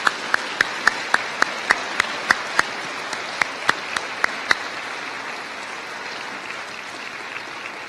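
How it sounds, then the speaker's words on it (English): Sparse audience applause at a college convocation: a dozen or so sharp, evenly spaced claps from one nearby pair of hands stand out over faint scattered clapping in a large hall, then fade out. "So let's give all of them a warm welcome with an applause."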